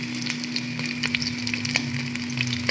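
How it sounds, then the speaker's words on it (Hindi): Beef and spices fry in a pot for yakhni pulao with a steady, dense sizzle and scattered crackles under a constant low hum from a stove or extractor, with no voices. "अब इसको 5 मिनट फ्राई करने के बाद मैं इसमें डालूँगी लहसुन"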